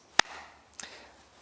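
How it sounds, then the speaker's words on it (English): Two sharp hand claps about half a second apart, the first louder and crisp, the second softer, close up in a quiet room. "This is the sound of 2 hands"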